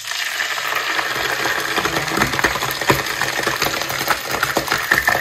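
Chicken pieces frying in a pan, a steady broadband sizzle with scattered crackles and pops running throughout at a close, fairly loud level, with no talk.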